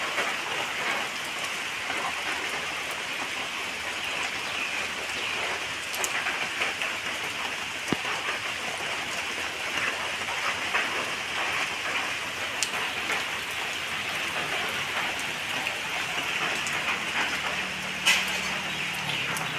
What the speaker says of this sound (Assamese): বৰষুণ এতিয়াও বৰষুণ দি আছে কিনকিনীয়া